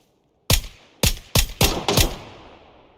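Five sharp gunshots from a video game crack out in quick irregular succession, loud and close, each with a brief decaying tail, with no voices.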